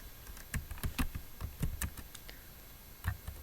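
Code being typed on a computer keyboard while setting up Python Selenium Chrome automation: quick irregular keystrokes in short bursts, close and fairly quiet, with no talking.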